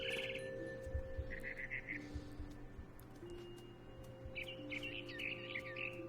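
Small birds chirp in What Remains of Edith Finch, short bright tweeting bursts over a soft, droning ambient background.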